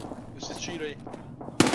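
A single loud, sharp gunshot bursts out at the end of Escape from Tarkov gameplay on the Labs map, preceded by muffled game sounds and a brief voice.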